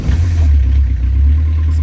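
A Volkswagen Golf Country Syncro engine hums loudly up close with a low, steady drone, rising slightly as it is revved.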